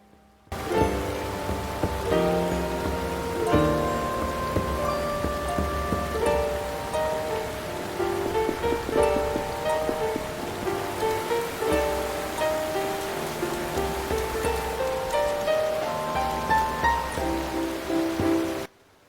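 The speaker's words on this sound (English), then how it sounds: "The sound of rain falling and the water flowing." Continuous patter of rain falling and water flowing in the video game Eternal Sonata, a steady wash of drops under soft melodic game music, without talk.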